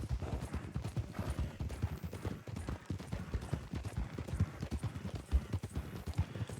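Horse hooves clip-clop in a steady, brisk rhythm as a horse travels along in the Red Dead game RedM, close and continuous with no voices over them.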